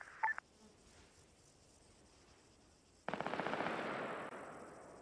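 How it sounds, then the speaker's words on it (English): Vehicle-mounted gun firing in Arma 3: a rapid automatic burst starts abruptly after a quiet stretch with a brief beep, continuing as a fast rattling stream of shots. "Opening fire now"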